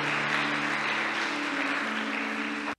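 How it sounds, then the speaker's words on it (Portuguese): A church congregation applauds together in sustained, dense clapping that holds steady at full strength for nearly three seconds, then cuts off abruptly, with a low musical hum sitting underneath. "Vamos aplaudir a palavra de Deus que transforma"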